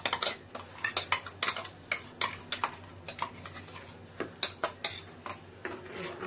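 A spoon stirs spinach through mutton kheema in a metal pan, making sharp, irregular clinks and scrapes that come in quick bursts with short pauses, close and fairly quiet.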